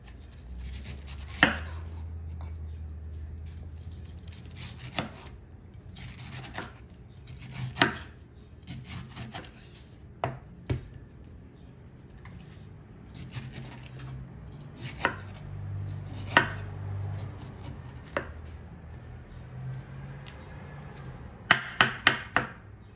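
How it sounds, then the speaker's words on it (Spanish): Food chopped into small cubes with a knife on a board, sharp distinct knocks at an irregular pace, some grouped quickly, in a quiet kitchen. "voy a cortar en cuadritos."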